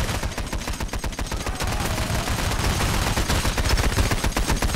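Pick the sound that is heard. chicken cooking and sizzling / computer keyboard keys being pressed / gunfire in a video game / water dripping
gunfire in a video game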